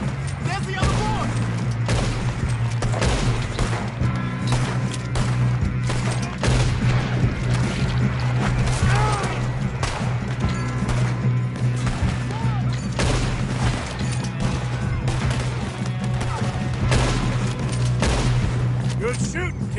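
Gunfire in the Red Dead Redemption 2 video game, a dense continuous barrage of shots over a steady low game rumble, loud and sustained throughout, with voices talking over it.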